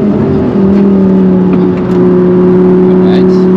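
An Audi R8 engine held at high revs near its 6000 RPM limit, a loud steady droning roar with sustained tones that hold constant throughout, close to the microphone.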